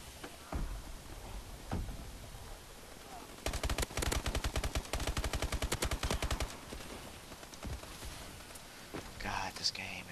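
Shooter video game gunfire, with a rapid automatic burst of evenly spaced shots rattling for about three seconds in the middle, plus scattered single shots and game noise, while a player talks and mutters.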